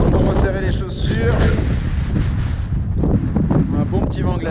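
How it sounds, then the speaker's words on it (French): Strong icy mountain wind on the Annapurna Circuit in Nepal roars and buffets the microphone throughout, loud and gusty, while a person talks underneath. "Un bon petit vent glacial."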